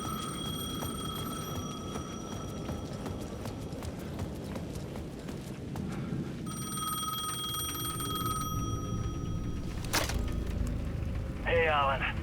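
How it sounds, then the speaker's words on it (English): A bell-like payphone rings in repeated bursts over clopping hooves and background ambience in the video game Alan Wake 2, with a brief warbling tone near the end. "The payphone at the edge of the plaza was ringing again."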